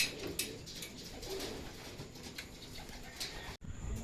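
Racing pigeons coo softly at an outdoor loft during summer training in San Isidro, Nueva Ecija, with faint wing flaps and ambient outdoor noise throughout.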